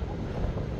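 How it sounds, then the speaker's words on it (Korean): Strong wind buffeting a microphone at the sea on a stormy day with rough waves, a steady low roar with gusty rumble throughout, no talk. "이렇게 바람이 세차게 불고 날씨가 안 좋은 줄은 몰랐습니다"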